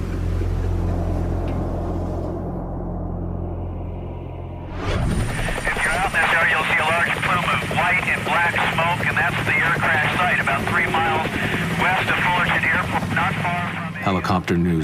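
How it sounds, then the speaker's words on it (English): A news helicopter over Los Angeles at a crash scene starts abruptly after a few quiet seconds of low rumble, then its loud, steady rotor roar fills the air overhead with rapid blade chop, mixed with speech. "Helicopter news crews are quickly on the scene."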